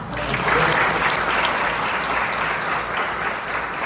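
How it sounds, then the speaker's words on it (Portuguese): Congregation applauding in a Church of the Nazarene service, a loud, dense, continuous burst of clapping from a crowd that fills the whole short stretch. "Você pode dar um aplauso ao Senhor."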